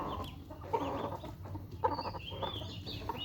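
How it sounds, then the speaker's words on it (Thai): Hen clucking on a farm among chickens, a few soft clucks and short calls in irregular bursts, faint and close with no talking. "เนี่ยแม่ไก่ครับ"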